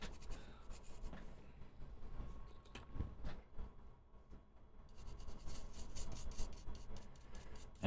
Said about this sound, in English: So let's get a brush and start scrubbing